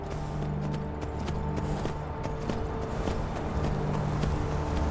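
Horse hooves gallop in Skyrim, a rapid, steady clip-clop of a running horse heard close and continuous over a dense game soundscape.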